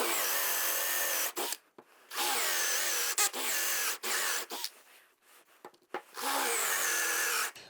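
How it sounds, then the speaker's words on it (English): Power drill boring into a wood blank for a bowl, several bursts of grinding whir broken by short pauses, close and fairly loud with no talking. "I'm just gonna drill down until the bit is flush with our piece right here."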